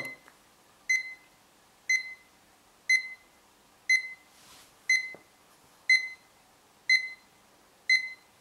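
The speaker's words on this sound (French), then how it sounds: "Donc déjà, c'est des petits bips." An alarm clock gives short, evenly spaced single beeps about once a second, clear and alone in a quiet room, with one brief soft rustle midway.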